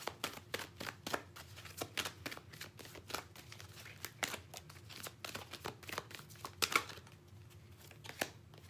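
Tarot cards shuffled by hand, a dense run of quick riffling snaps and flutters with short pauses, close and fairly quiet, ending as a single card is drawn from the deck.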